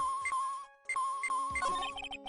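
A cell phone rings in the Phoenix Wright: Ace Attorney courtroom adventure game, a bright electronic ringtone repeating in a steady pattern with a short break, close and loud, with game sounds joining near the end.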